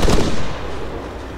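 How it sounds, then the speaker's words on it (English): Gunfire in a video game: a quick cluster of sharp, loud shots at the very start, then a reverberant tail fading out over about a second, with no voices. "Shots fired."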